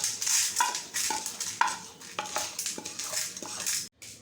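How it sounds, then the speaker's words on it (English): Toor dal roasting in a pan over a medium flame for a dal powder, with quiet stirring scrapes and a soft sizzle repeating steadily at close range and no talking. "always keep it in medium flame and fry so that it will not get burnt"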